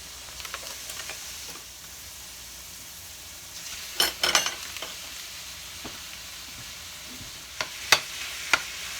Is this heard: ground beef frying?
yes